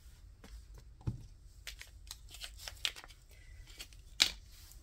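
Pinking shears cutting fabric for sewn Easter eggs, a handful of faint, separate crisp snips with quiet rustling between them, close by and without speech.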